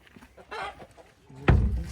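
Chickens cluck in short bursts while being picked up and moved during a trip to buy new hens, with a louder flurry near the end close by.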